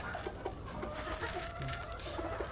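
Hens and roosters clucking at a gamefowl breeding farm, several birds calling at once in steady overlapping clucks with a few brief crow-like calls, moderately close and continuous over farmyard background noise.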